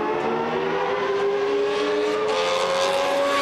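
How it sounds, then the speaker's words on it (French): Ferrari V12 engine revving loud and close, a steady high harmonic whine that climbs slowly in pitch across several seconds with no talk. "ce V12 est incroyable"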